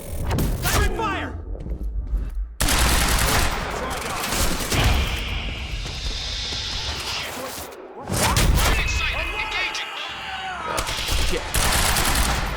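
Bursts of rapid automatic gunfire and heavy thuds in the video game Quantum Break, set in a garage at a Monarch facility. Loud volleys come in several waves with whooshes and short gaps between them, and voices call out over the shooting.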